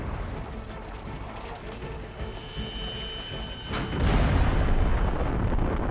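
A World War I Paris Gun, a huge long-range cannon of three welded barrels, fires amid a dense roaring rumble that swells into a heavier blast near the end, with narration running over it.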